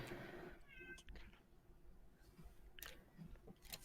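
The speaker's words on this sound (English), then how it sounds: "was that the sounds of a wild cat?" A wild cat meows briefly in a game, a short tonal call near the start followed by faint rustling and scattered clicks.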